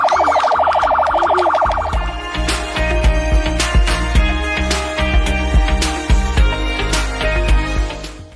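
An ambulance departing a launch event at a new social centre in Kisumu, its siren wailing loudly at first and then giving way to rapid electronic yelping pulses over a rhythmic guitar-driven music backdrop.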